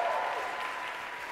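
Church congregation applauding during a sermon, a steady dense wash of clapping that holds at an even level from start to finish with no voices.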